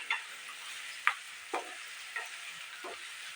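Onions frying in a generous amount of oil for puliyogare, a soft sizzle with five or six sharp stirring scrapes and clinks spaced about half a second apart, close by with no talking.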